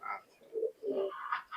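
Young Teddy pigeons, the offspring of a Saki Teddy pair, give short close coos and throaty calls, a few quick bursts with brief pauses and no speech.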